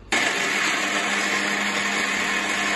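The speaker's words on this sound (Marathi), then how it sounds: "टोमॅटो पण आता मिक्सरमध्ये ग्रेव्ही करून घेऊ" Mixer grinder blending an onion and tomato gravy, starting abruptly and then running as a loud, steady whirring hum close by, with no talk.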